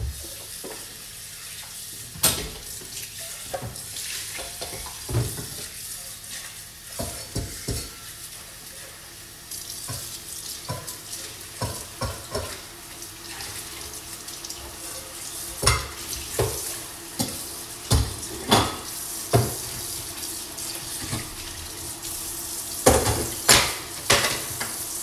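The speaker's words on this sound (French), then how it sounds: "Je lave mes bols" Bowls are washed in a kitchen sink with clinking dishes and utensils over running or splashing water, producing scattered knocks and clatters at close range throughout.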